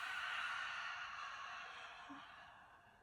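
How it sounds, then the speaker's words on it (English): A single long open-mouth exhale during a yoga sun salutation, a soft breathy rush that fades gradually over a few seconds, close and alone without speech. "Open mouth exhale."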